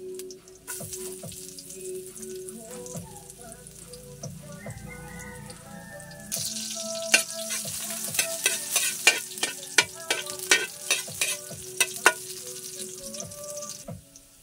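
Ginger and garlic fry in a hot pan for adobong sitaw, a crackling sizzle that swells midway and is punctuated by sharp scrapes and clacks of stirring.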